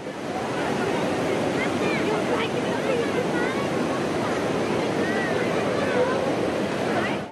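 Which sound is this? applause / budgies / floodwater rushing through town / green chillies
floodwater rushing through town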